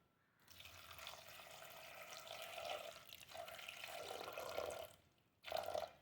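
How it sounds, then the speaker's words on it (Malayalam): Water pours into a pot of lentils already seasoned with salt, turmeric and chilli powder for an old-style lentil, jackfruit-seed and spinach curry, a soft splashing trickle in uneven surges with a brief pause before a final pour. "ആവശ്യത്തിന് വെള്ളം ഒഴിച്ച് കൊടുക്കാം."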